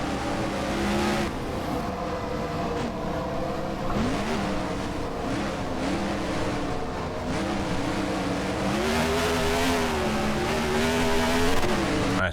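Race car engines from the NASCAR Racing 2003 sim drone loud and steady with shifting revving pitch, several cars close together on an oval track at Air Base Speedway, running for the whole stretch.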